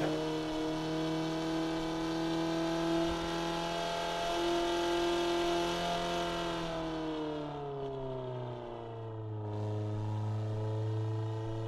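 Car engine from the Assetto Corsa racing game drones steadily at high revs, the pitch sliding down as the throttle lifts and the car slows, then settling into a lower hum; loud, close and continuous with no talk.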